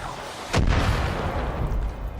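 Enemy gunfire in the video game Far Cry 5: a single loud, booming shot that rolls into a long, noisy rumbling tail.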